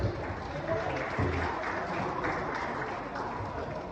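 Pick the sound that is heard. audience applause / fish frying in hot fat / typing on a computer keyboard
audience applause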